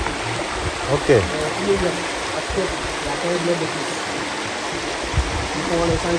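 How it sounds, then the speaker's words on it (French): The Dindefelo waterfall in Kédougou, Senegal rushes as a steady broadband roar with a close watery wash, while someone speaks briefly over it. "Et là, c'est une cascade qui a été découverte en 1921."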